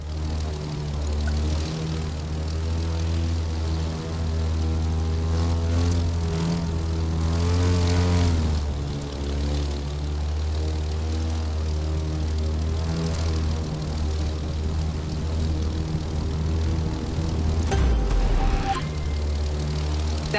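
A propeller airplane flies low over treetops in the video game The Crew, its engine droning loud and steady throughout with rising and falling pitch and no talk.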